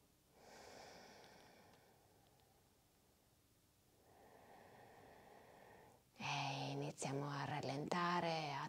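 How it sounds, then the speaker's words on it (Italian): Slow pranayama breathing: a long, soft inhale and exhale of breath, audible at moderate level, followed by a voice counting in Italian. "Inspiriamo. 1, 2, 3. Espiriamo. 1, 2, 3."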